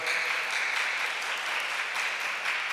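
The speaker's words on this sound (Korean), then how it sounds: "여러분 큰 박수로 환영합니다." Loud, steady applause fills the whole stretch as an audience welcomes young adults and university students at a Cheonbokgung church gathering. The clapping is dense and continuous, with no pauses.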